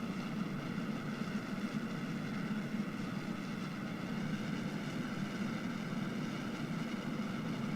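Rocket engines on a chunky Kerbal Space Program rocket firing with Clydesdale boosters, a steady loud roaring drone with a constant low rumble and even texture throughout, no voices heard.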